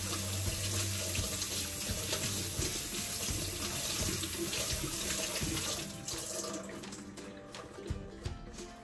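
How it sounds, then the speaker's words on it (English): Hands being washed under a running kitchen tap before handling pork belly for adobo, a steady close rush of water with splashing and rubbing, no voices. "before I touch any food, I wash my hands thoroughly"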